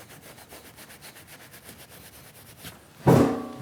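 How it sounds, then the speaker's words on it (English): A diamond drag engraving tool scratches across a machined control panel for a lathe electronic leadscrew, making a soft rhythmic scraping of repeated strokes. It ends with a sudden louder knock and rattle. "see what happens with the diamond drag engraving"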